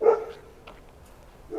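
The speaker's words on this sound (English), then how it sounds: "And now you can hear just how effective these guard dogs are." Guard dogs barking on a street in Zambia as people pass, with one loud close bark at the start, faint yips in between and another bark beginning at the end.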